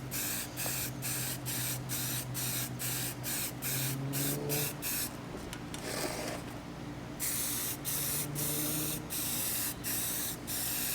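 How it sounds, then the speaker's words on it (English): Amber headlight corner pieces from a custom Silverado headlight build are spray primed with an aerosol can, producing a loud, steady close hiss broken by rhythmic short bursts and one longer continuous spray. "I am priming the amber corners that go in here"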